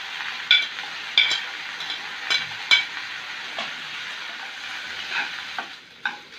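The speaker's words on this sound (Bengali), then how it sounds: "মাংসটা ভাজা ভাজা হয়ে গেছে" Meat sizzles in a pan with soy sauce, lemon juice and chopped green chili, a steady frying hiss broken by sharp clinks of a stirring utensil against the pan, with no talking.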